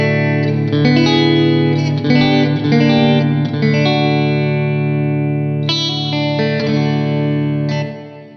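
Guitar played through a Strymon Cloudburst reverb pedal set to a half dry, half wet mix: sustained chords ring out loud and alone, each strum blooming into a lush wash that lingers and fades out at the end.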